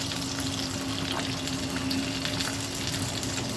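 Chicken thigh skin crackles and sizzles under an infrared oven, a steady close hiss with faint pops running evenly throughout, with a low electrical hum beneath and no talk.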